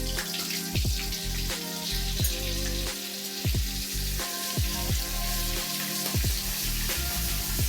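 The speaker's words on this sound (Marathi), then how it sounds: "कढईमध्ये तेल घेतलं आहे, 3 चम्मच तेल, आणि त्याच्यामध्ये 3 चम्मच बटर घालायचं" Oil and butter sizzle and crackle as they heat in a kadhai, loud and close and continuous, with repeated sharp spattering pops throughout.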